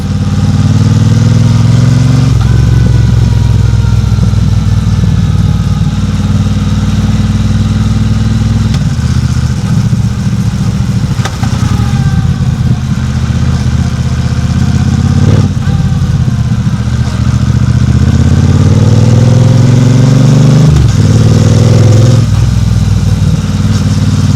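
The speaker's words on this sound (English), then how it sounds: "when you downshift you have little burbles coming out of the exhaust" A Triumph Speedmaster motorcycle engine runs loudly and close, revving and dropping repeatedly on downshifts with throaty exhaust pops and burbles as the revs fall.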